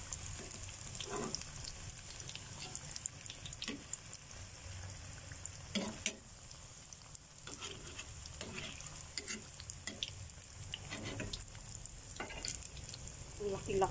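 Fish and vegetables with egg fry in a pan, giving a quiet, steady sizzle with occasional soft clicks and stirring scrapes scattered throughout, with no talking over it.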